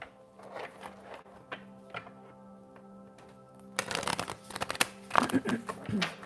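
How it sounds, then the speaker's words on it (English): Tarot cards are shuffled in a series of quiet riffling and flicking bursts, sparse at first and then a denser, louder flurry, with faint background tones and no voices. "I can't even shuffle anymore"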